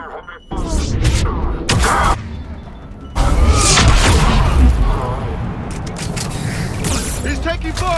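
Gunfire and explosions in the sci-fi shooter Mass Effect 3: loud booming blasts and bursts of weapon fire crowd a continuous battle roar, with shouted voices breaking through the din.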